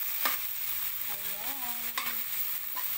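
Corned beef frying in a pan makes a steady soft sizzle with a few light stirring scrapes, heard close and fairly quiet, with no talking.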